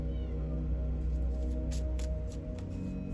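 A cat crying to be let in, with plaintive meows over a steady low background hum, fairly faint and close.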